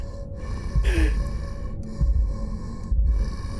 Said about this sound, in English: He's just breathing.